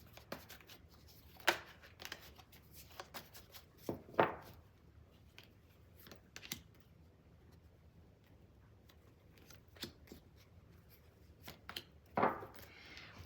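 Tarot cards are shuffled and drawn, heard as a scattered series of brief close-up riffles, flicks and soft slaps separated by quieter pauses.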